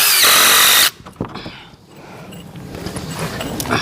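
A power drill drives screws into wooden handrail on a large deck, whirring loudly and steadily up close for about a second before cutting off, followed by quieter knocks and handling noise.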